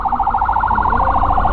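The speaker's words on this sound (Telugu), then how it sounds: "ఇక్కడ చూడండి అమెరికాలో అంబులెన్స్ ఎట్లా పోతుందో చూడండి." A wailing emergency siren cycles rapidly up and down as an ambulance passes along the Las Vegas Strip, loud and close over a low traffic rumble.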